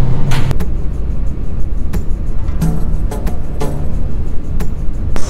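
A rental car used for a stakeout gives off a continuous low road-and-engine rumble, broken by a few sharp clicks and knocks from the cabin, with no talking.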